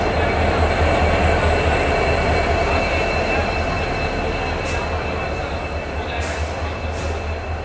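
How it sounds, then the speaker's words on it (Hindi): Barak Brahmaputra Express train rolling at Badarpur Junction platform, a steady loud rumble of wheels and carriages with occasional sharp metallic squeals, close by and continuous. "बदरपुर जंक्शन के प्लेटफॉर्म नंबर 1 पे आयल भाई बराक ब्रह्मपुत्र एक्सप्रेस।"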